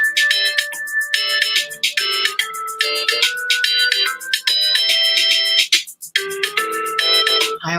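A phone ringtone plays a loud, bright melodic tune of repeating electronic notes, cycling steadily for several seconds with brief gaps, alone and without talk.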